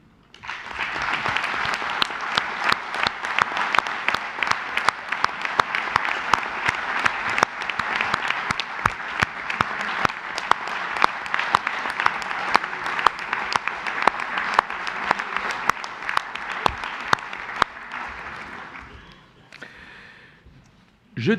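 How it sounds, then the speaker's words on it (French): Council members at a community council session applaud together in sustained, steady clapping with distinct individual claps, moderately close, lasting about seventeen seconds before tapering off into a quiet room. "je vous propose de le faire avec moi, de l'applaudir"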